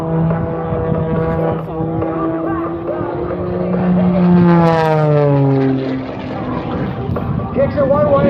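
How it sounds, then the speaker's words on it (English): An aerobatic propeller airplane tumbles through snap rolls at an air show in Cold Lake, Alberta, its loud engine drone sliding up and down in pitch as it kicks one way and then the other. "Kicks it one way and then the other as she sets up to tumble that airplane around in a series of snap rolls."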